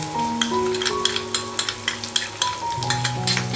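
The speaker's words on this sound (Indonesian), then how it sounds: "Aduk-aduk terus sampai bumbunya terlihat menyusut dan meresap ke dalam daging belutnya." Eel sambal sizzles loudly in a pan while a utensil stirs and scrapes it, making rhythmic knocks and scrapes over a continuous, close frying hiss.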